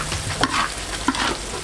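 Two hotpot base blocks hit hot oil and spices in a wok, giving a continuous crackling fry with a couple of sharp stir and scrape accents along the way.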